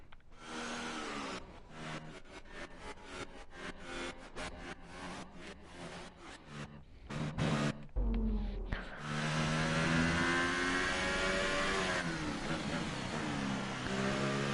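F1 racing car engines in F1 2018 scream steadily, with quick gear-shift stutters early, then a high sustained whine as the car pushes flat out, a voice talking over the top.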